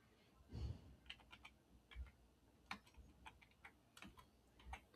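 Light clicks of typing on a computer keyboard come in scattered, quiet bursts of single and grouped keystrokes, close and faint over a low background hum.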